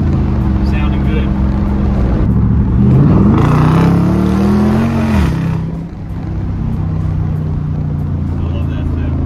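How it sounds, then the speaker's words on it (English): Dodge Challenger R/T with a 5.7L Hemi V8 and a muffler delete idles with a deep rumble, then revs up and back down in a rising and falling roar, with someone talking over the engine. "Hear that wind muffle delete? Sounding good."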